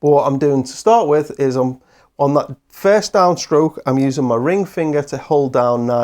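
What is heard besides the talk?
None of the usual background noises is heard.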